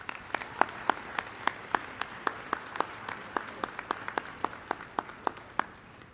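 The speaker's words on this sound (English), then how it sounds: "Let's give them a round of applause once more." Steady applause from a crowd at a high school senior awards ceremony, a run of sharp claps repeating at a brisk, even pace, moderately loud with no voices on top.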